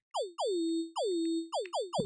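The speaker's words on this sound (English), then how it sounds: "In this case, it's a sine wave, and that's going through a downsampler." A series of synthesized sine tones, each sweeping quickly down in pitch and holding, with a gritty downsampled edge; five notes in uneven rhythm, ending abruptly.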